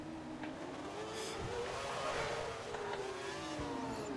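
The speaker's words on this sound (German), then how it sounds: "Ich tipp's Gas an, der geht hinten rum." An F1 2012 race car in the video game, driven in practice at Monaco with traction control, revving under throttle with a rising and falling engine whine and a steady roar, with light talk in the background.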